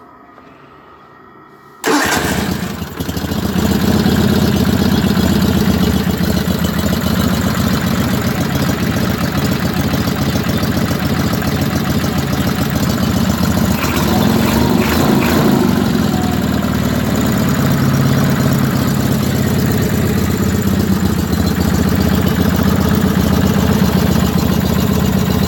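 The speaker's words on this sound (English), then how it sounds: "But we have a charging, running Onan now." Onan engine, after starting right up without choke, settles into a steady, loud, close idle with a low rumbling drone that continues without talk.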